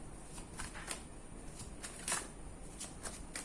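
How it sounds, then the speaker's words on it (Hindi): A tarot card is drawn from a deck, producing soft papery flicks and rustles close by, with several light taps at an irregular pace. "तो फाइनली एक और कार्ड निकाल कर देखती हूँ कि अभी इनकी माँ चाहती क्या है।"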